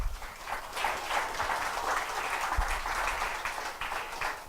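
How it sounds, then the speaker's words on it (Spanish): A Catholic church congregation applauds together during a sermon, a dense and steady wash of clapping that holds moderately loud throughout with no voices over it. "Le damos un aplauso al Señor"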